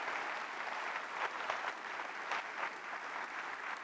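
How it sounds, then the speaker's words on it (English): Quiet, sustained applause from an audience after a KPMG keynote on leading change and innovative culture, an even patter of many hands clapping at a distance. "Another round of applause, because I think that was so insightful, engaging."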